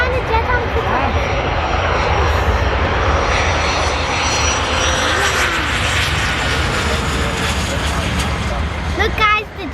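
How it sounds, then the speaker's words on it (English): Jet aircraft engines roar loud and steady throughout at an airshow, a broad continuous rumble with a faint pitch sweep near the end; people talk faintly beneath it. "Look guys, the jets are going."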